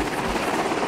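An Arma II helicopter lifts off with a loud, close, continuous rotor roar and engine whine, steady and dense for a brief moment.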